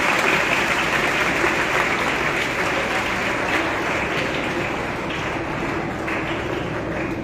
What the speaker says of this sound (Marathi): याबद्दल या मंडळीचं टाळ्या वाजवून स्वागत करा.